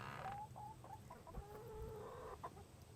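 Several chickens, including a Brahma hen, cluck softly nearby, short repeated calls scattered over a low background hum, with a couple of brief louder clucks.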